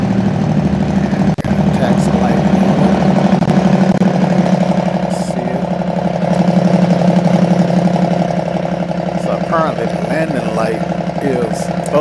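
The piston engine of a Cessna 206 in the X-Plane 12 flight simulator drones steadily while taxiing to the runway, a loud, even hum that runs throughout as someone talks over it.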